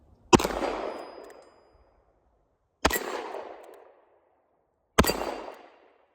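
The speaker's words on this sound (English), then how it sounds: "I'll shoot in single action for now and see if I can hit anything." Three single-action shots from an Armscor M206 .38 Special two-inch snub nose revolver crack out about two seconds apart, each a sharp loud bang with a short ringing decay and silence between.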